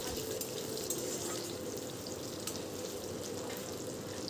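Chopped onions and tomato sizzle steadily in hot oil while frying as the base for a mutton curry with potatoes, a constant close hiss with no talk.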